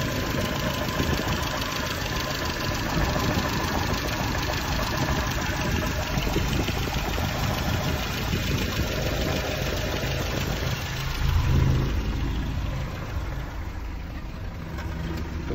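A Land Rover Series 3 engine fitted with a Weber carburettor idles steadily up close, a continuous rough, slightly knocking mechanical drone that holds for the whole stretch and swells briefly once, with no voices.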